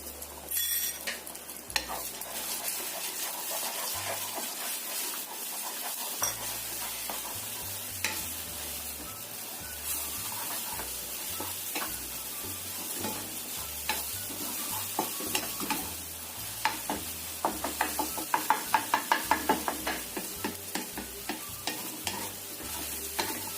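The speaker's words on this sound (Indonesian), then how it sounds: "Kita goreng telurnya ini, goreng orak-arik aja." Eggs scramble and fry in oil over medium heat, giving a constant sizzle under repeated scraping and stirring strokes of a utensil against the pan.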